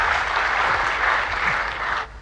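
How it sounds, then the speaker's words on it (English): An audience claps at a Moto G6 smartphone launch event, a dense, loud burst of steady applause that holds for about two seconds and then cuts off. "let's get a round of applause"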